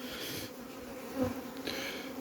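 Honeybees buzz in a dense, continuous drone around an opened beehive, close and steady with small swells as individual bees pass nearby.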